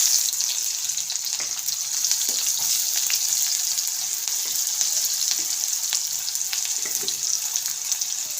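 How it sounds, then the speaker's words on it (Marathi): Chopped onion sizzles steadily in hot oil with cumin seeds for a home-style potato chutney, a dense, even frying hiss with small crackles close by and no voices. "त्यामध्ये मी कांदा टाकते"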